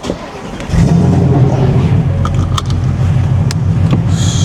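A car engine pulls away and accelerates while driving, a loud steady low rumble rising from a quieter start and holding close to the microphone, with faint cabin noises over it.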